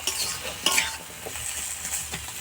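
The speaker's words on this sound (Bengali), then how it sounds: "কিছুক্ষণ আমরা এটাকে নেড়ে নেব" Potato, bottle gourd stems and fish being stirred in a pan for a spicy curry, with soft scraping strokes over a steady gentle sizzle and a few louder clinks.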